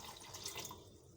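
A glass of water is poured into a mixer jar, giving a soft, brief splashy trickle heard close by and faintly, with no voices.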